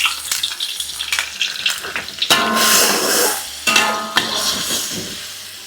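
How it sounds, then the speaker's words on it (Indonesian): Chili spice paste of shallots, garlic and curly red chilies for tuna balado sautéing in oil in a pan: loud, close sizzling crackle with a few stirring scrapes and knocks against the pan, without talk. "Tumis dulu bumbunya."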